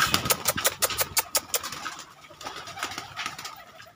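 Pigeons coo close by while feeding on scattered grain, with a quick series of sharp fluttering or pecking bursts in the first half and softer, steadier cooing after.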